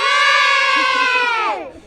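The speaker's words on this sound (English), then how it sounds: "I want you to give me a big cheer for your garden after 3" A group of children gives a loud, sustained shout of cheering for their community garden at a school event, close and strong, then trails off after about a second and a half.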